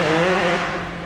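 Motocross bikes revving at a track right beside a mountain bike trail car park, a steady loud engine drone with layered harmonics that eases slightly toward the end.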